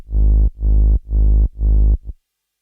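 A synth bass preset built from a sine wave with a filtered saw wave on top plays four long, deep, evenly spaced notes and then a short fifth one, alone and loud with clean gaps.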